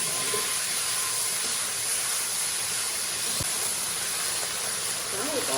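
Rice cakes stir-fried in a wok with chili bean paste, scallion and ginger give off a loud, steady hissing sizzle that holds unbroken throughout.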